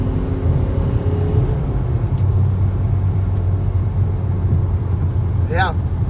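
A straight-piped Volkswagen Jetta SportWagen drones steadily from inside the cabin while driving, a loud low exhaust rumble that holds constant throughout, with people talking over it.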